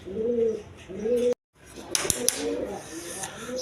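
Jira gola pigeons coo close by in repeated throaty rolls, broken by a brief dropout and a few clicks or thumps, with a voice faintly present.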